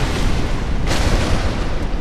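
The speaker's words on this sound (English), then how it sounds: "here comes explosion" A loud, close explosion from the Dark Souls video game bursts as a single heavy boom with a sharp onset, then rolls into a sustained, rumbling roar that fills the whole two seconds.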